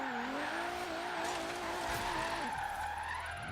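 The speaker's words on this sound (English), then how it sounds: "Anyway, so let's get drifting." An Alfa Romeo Milano Quadrifoglio Verde drifts in a video game, its engine droning with shifting pitch under sustained tire squeal, the revs dropping near the end.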